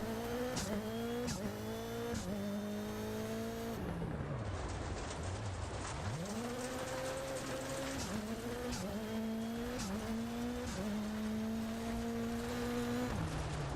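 Rally car engine in the racing game DiRT Rally 2.0, revving hard through repeated upshifts with rising and dropping pitch, a brief throttle lift and gravelly tyre noise midway, loud and close throughout.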